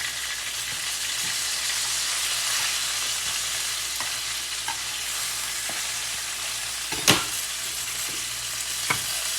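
Food sizzles steadily in a hot frying pan, a continuous broadband crackle with a few brief sharp clicks and clatters near the end, no voices.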